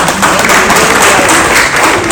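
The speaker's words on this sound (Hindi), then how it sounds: "एक बार जोरदार ताली इनके लिए" A crowd at a BJP Delhi Purvanchal Morcha political rally gives loud, dense, sustained applause, with cheering mixed into the roar of clapping.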